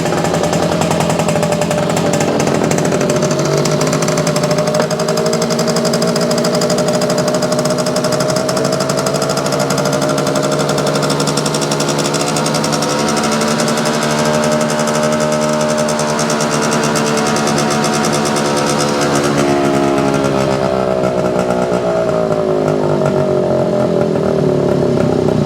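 A Yamaha YJ2 motorcycle engine idles with a rapid, buzzing two-stroke rattle that holds steady, then slows and sputters as it runs down after the fuel is shut off, close and loud with no talk.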